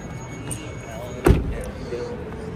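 A car door on a 2025 Subaru Forester Touring opens with one short, fairly loud latch clunk partway through, set against quiet ambient noise.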